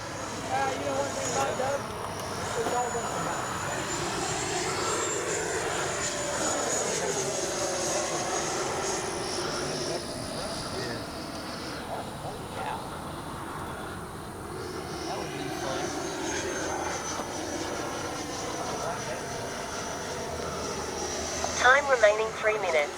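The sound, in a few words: FMS Avanti S 90mm RC jet engine in flight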